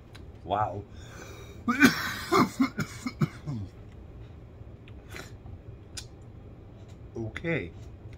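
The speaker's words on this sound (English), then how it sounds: "I'm always coughing my face off." Several harsh, close coughs and throat clearing after vaping a disposable vape pen, coming in bursts, with quiet breathing and faint rustling between them.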